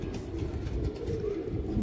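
A female Sambhal-breed pigeon coos in a low, continuous murmur close by, over a steady rumbling background.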